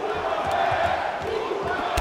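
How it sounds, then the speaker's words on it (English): Brazilian arena crowd in the UFC 2 fighting game, a steady loud roar of cheering and chanting that fills the whole stretch, with occasional sharper shouts rising out of it. "listen to this Brazilian crowd. They love him."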